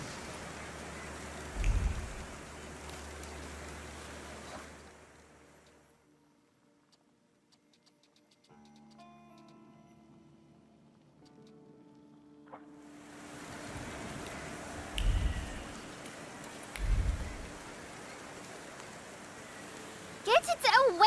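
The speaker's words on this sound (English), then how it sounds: "And now it starts to rain" Steady rain in the game The Thaumaturge, a broad hiss of falling water that fades out midway while a quiet musical passage plays, then returns, broken by a few low thumps.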